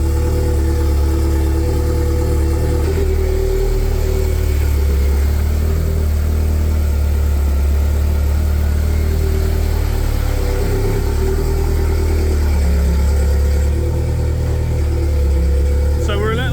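A car engine with hidden crash damage idles steadily, a constant low rumble running the whole time without revving.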